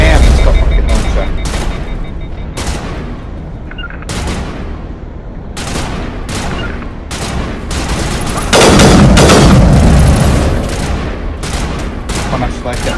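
Gunfire and rocket launcher blasts in the video game Mass Effect: Legendary Edition come as repeated loud bursts and booms over a dense, rumbling battle bed, with voices mixed in.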